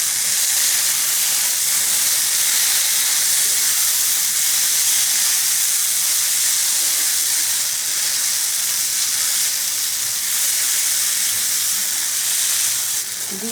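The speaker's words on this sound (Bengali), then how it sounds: "এখন আমি টমেটোর সঙ্গে মিশিয়ে নেব।" Fried egg and tomato stirred together in a hot pan for a Bengali mashed egg-tomato bharta, a steady loud sizzle and hiss that barely changes throughout, no voices.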